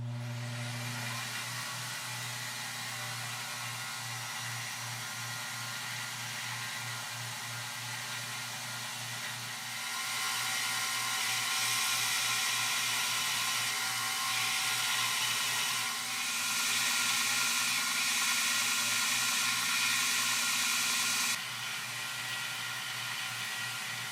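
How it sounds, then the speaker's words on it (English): Grinder steadily working the lock faces of a liner lock knife, a continuous whirring drone with a low motor hum that swells slightly louder partway through, with no talking. "Let's grind some lock faces."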